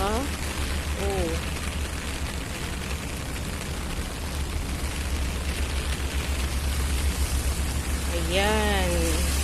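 Heavy rain pours steadily in Hong Kong, a dense continuous roar of water; brief chirping sounds rise over it near the start and again near the end.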